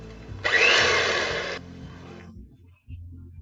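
An electric hand beater whirs in eggless cake batter flavored with lemon juice, lemon zest and vanilla. It runs in one loud burst of about a second, then stops, leaving a quiet low background hum and a brief knock.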